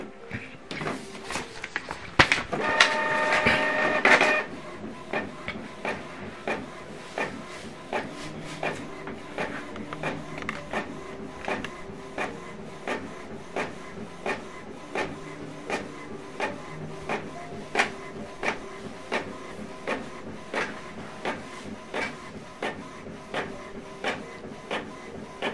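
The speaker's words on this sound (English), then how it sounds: "this document now is printing" A document printer starts with a loud whirring burst, then settles into a steady, evenly spaced mechanical clicking and feeding rhythm as it prints a page, heard up close with no talking.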